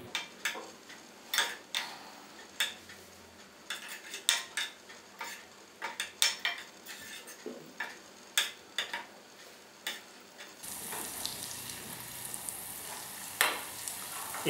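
Herbal oil cooks on low heat in a pan while a metal spoon stirs it, giving repeated sharp scraping clinks in an irregular rhythm over a soft sizzle that grows louder and hissier toward the end.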